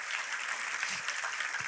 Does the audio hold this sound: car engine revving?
no